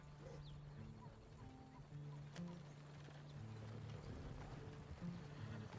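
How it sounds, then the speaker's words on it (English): A herd of wild horses in the RedM video game trots by with soft, irregular hoof clip-clops, faint and distant under a low ambient bed, with no talking. "herd of horses"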